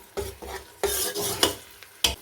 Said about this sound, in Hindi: प्याज को हम यहाँ पर 2 से 3 मिनट के लिए फ्राई करेंगे।